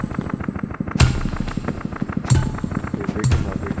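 Gunfire from the VR game Animal Company, rapid popping shots with three louder booming blasts spaced through, close and loud, with no speech.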